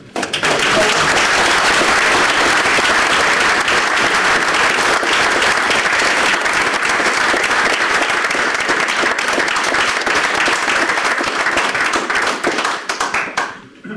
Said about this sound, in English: The warmth of the applause there, Tony, speaks volumes